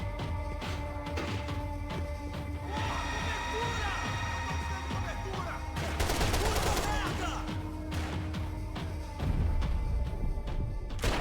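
Gunfire in the shooter game Max Payne 3, a dense run of rapid shots and bursts stacked over game music, louder flurries near the middle and end, with someone talking over parts of it.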